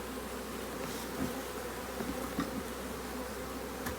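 Honey bees hum in a dense, continuous drone around a hive frame holding larvae and some honey, close and steady, with a few brief louder buzzes from individual bees passing near.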